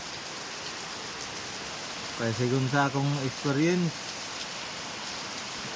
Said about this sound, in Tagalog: kay dili pa gyud ni mawala ang ulan.